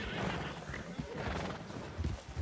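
Horses neigh and whinny with clip-clopping hooves in the Red Dead Redemption 2 video game, a close, busy burst of horse sounds over faint background talk.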